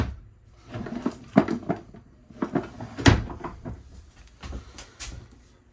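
Storage drawers in a 2022 Cardinal Luxury 370FLX fifth-wheel RV open and close several times, giving close, irregular wooden thumps and sliding knocks separated by brief pauses.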